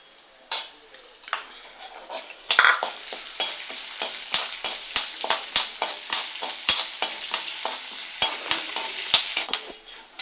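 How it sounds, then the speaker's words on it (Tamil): Urad dal roasting in oil in a pan, a bright continuous sizzle with a quick, regular series of sharp spatula scrapes and clinks against the metal, close and fairly loud, no voices. "இப்போ உளுத்தம்பருப்பு வறுத்துக்கிறேன்"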